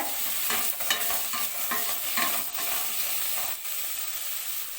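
Ginger, garlic and green chili stirred in a hot pan for a sweet corn gravy, a continuous sizzling hiss of frying with repeated scraping strokes of the spoon, close and steady, no voices.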